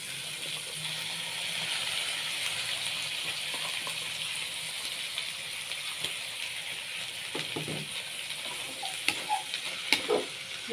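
Sweet corn and long beans being stirred and sizzling in a pan during a stir-fry, a steady close frying hiss with scattered spatula scrapes and clicks growing busier toward the end.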